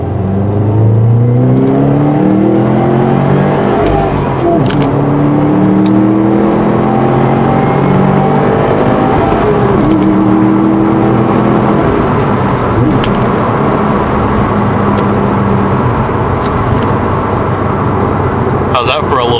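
A 2017 Subaru WRX STI accelerating hard, its engine note sweeping upward through several gears with shifts between, loud and close with wind and road roar, then revving again; people talk faintly over it.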